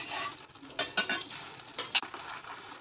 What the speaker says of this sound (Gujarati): છાશને થોડી વાર ચલાવી લઈશું. છાશ આપણી ઉકળે ત્યાં સુધી એને રાખીશું.